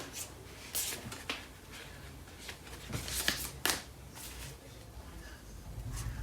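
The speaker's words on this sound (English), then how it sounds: "I'm gonna pull out a card from the Lovers Oracle deck" A Lovers Oracle card deck is shuffled at a tarot reading, brief riffling flutters and soft card slaps in a few bursts, close and quiet.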